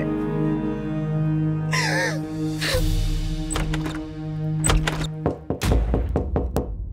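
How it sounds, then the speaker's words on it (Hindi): Sharp, loud knocks pound on a door late at night, a run of irregular thuds in the second half following a stretch of sustained background music and a brief vocal sound. "इतने जोर से कौन दरवाजा खटखटा रहा है?"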